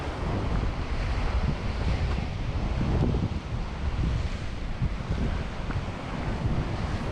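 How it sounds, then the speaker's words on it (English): Waves crashing and spraying against a rocky shoreline with rock pools on Scotland's wild east coast at sunset, a loud continuous roar heavily mixed with wind buffeting the microphone, no talking. "there's waves like spraying like crazy"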